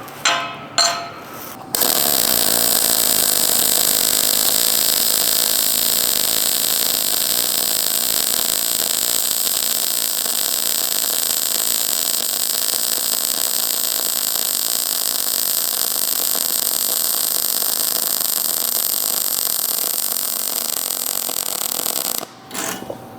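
An HTP Freedom 250 Pulse welder lays a synergic steel bead at a 1/8 inch, 125 setting, giving a loud, steady crackling hiss for about twenty seconds that starts and stops abruptly, with no talk.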